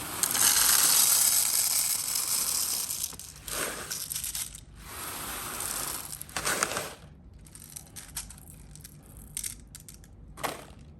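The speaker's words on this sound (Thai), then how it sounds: "ปั่นนิดนึงปิดฝาลูกกระสุนจะขึ้นตรงนี้นะครับ" A high-capacity magazine for an HK416A5 airsoft BB gun is wound by hand, with a loud rapid ratcheting whir of plastic gears and rattling BBs, then shorter bursts of clicking.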